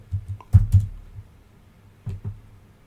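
Keys tapped in short clustered bursts while writing a line of test code, a few quick clicks near 0.5 s and again near 2 s, fairly soft and close with quiet gaps between.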